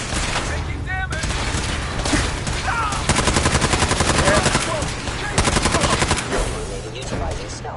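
Rapid bursts of automatic gunfire in the Institute video game, modded, with dense rattling volleys repeating in waves, loud and close, mixed with game voices and effects.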